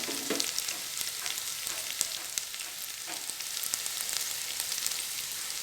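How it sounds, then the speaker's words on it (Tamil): Onions sautéing in a pan for egg biryani give a steady close sizzle and frying crackle, with occasional scrapes and clinks of stirring, and no voices. "வெங்காயம் நல்லா வதங்கிடுச்சுங்க."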